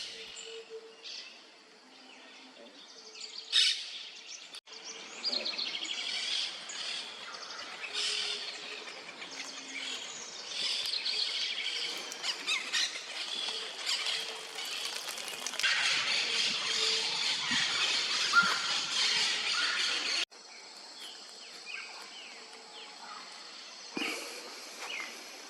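Parakeets and other birds calling at dawn in the treetops of Chaco National Park, with a busy, continuous chorus of overlapping chirps and shrill squawks at moderate distance, faint throughout.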